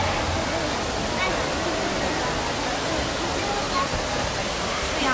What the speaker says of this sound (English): Look at that water spray.